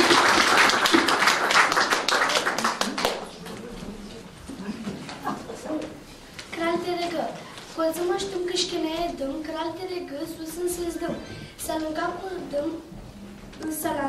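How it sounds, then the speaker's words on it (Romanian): An audience claps loudly for a girl about to recite a poem in Tatar at a painting exhibition in Mangalia; the applause fades after a few seconds, and a voice then speaks over the quiet room. "să o aplaudăm pe Melissa Chiosep"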